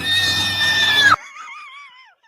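A woman lets out a loud, high, sustained squeal lasting about a second, which cuts off abruptly and is followed by a fainter, wavering squeaky tail.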